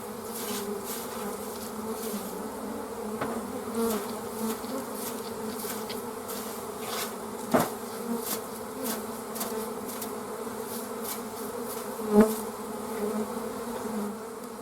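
A dense, continuous drone of many bees buzzing close by, with a couple of sharp knocks partway through.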